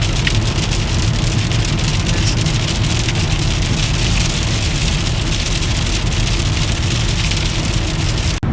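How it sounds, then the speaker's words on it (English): Heavy rain pours down steadily in a dense, loud roar of drumming drops that runs without a break, with no voices over it. "we're getting some pretty heavy rain here"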